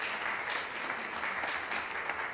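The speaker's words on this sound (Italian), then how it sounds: "Applauso" Applause fills the room at an Italian environmental innovation awards ceremony: a steady, even wash of many hands clapping, fairly faint and unbroken throughout.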